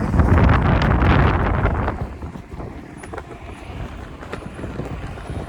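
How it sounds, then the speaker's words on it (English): Gusty wind buffets the microphone with a loud low rumble, easing after a couple of seconds into a softer, steadier outdoor roar. "a little windy out here today"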